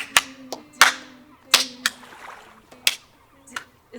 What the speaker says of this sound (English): Here, clap it out.